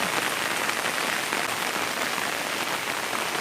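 Steady morning rain falls at a home near the hills and sea in Sattahip, a dense, even patter on surfaces that holds at the same level throughout with no voices.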